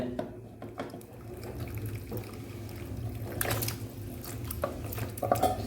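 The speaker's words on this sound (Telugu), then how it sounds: "కాళ్ళు ఉడకబెట్టిన నీళ్ళు ఇందులో పోసుకున్నాం" Water in which goat trotters were boiled is poured into a soup pot, making a steady splashing, gurgling pour that swells toward the end, with a few clinks, close by and without speech.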